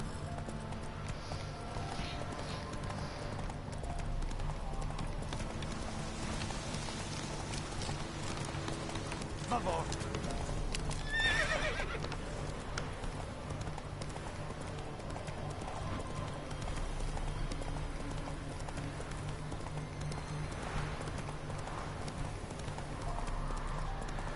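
Roach the horse galloping in The Witcher 3, steady clip-clop hoofbeats running continuously and fairly close, with faint ambient game sounds and a brief louder burst midway.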